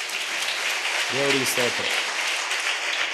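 Church congregation applauding during a sermon, a steady broad wash of clapping that runs throughout while someone briefly speaks over it in the middle.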